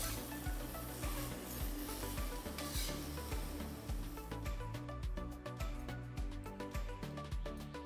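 Kangkong vegetables stir-fried in a hot pan, with steady sizzling under rhythmic scraping and folding strokes of a utensil repeating about twice a second.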